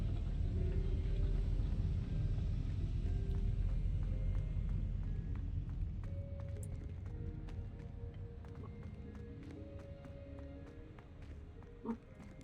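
Low thunder rumbling through a violent thunderstorm, a deep sustained roll that is loudest at the start and slowly fades, with faint background sounds and a brief knock near the end.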